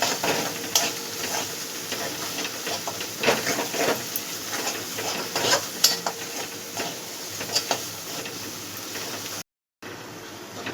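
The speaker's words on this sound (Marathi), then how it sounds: "हे खोबऱ्याचं वाटण आणि आलं लसूण पेस्ट टाकून घेऊया. व्यवस्थित मिक्स करून घेऊया." Coconut paste and ginger-garlic paste sizzle and fry in an oil-coated pan, with steady stirring scrapes and soft clinks of a utensil against the metal, close and continuous.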